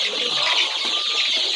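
Chickens in a coop chatter and rustle as a busy flock, a dense, continuous wash of bird noise with faint wing flapping, fairly close and without talk.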